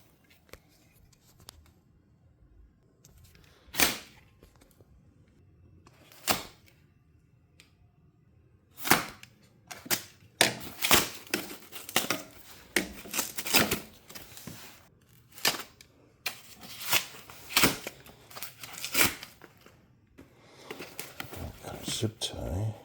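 Sharp snips and clicks as zip ties are cut off a new Meelod DK300 Max bike during assembly, irregular bursts close by, with quiet stretches and someone talking between cuts.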